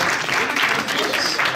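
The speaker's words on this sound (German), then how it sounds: "Dafür mal bitte einen Applaus." A school award ceremony for a stock market simulation game fills with a short burst of steady audience applause, dense and even, with some voices mixed in underneath.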